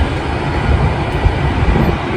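V/Line regional train passing on the Werribee line near Footscray, a loud, steady, close rumble and roar of rolling wheels and engine that fills the whole stretch without a break.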